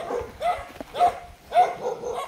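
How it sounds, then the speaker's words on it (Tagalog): Several dogs bark in a rough, repeated rhythm, about three loud woofs spaced evenly, nearby in an outdoor rural area with a faint background murmur. "Uy, may mga aso."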